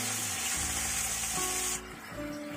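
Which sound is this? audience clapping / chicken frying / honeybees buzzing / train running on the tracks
chicken frying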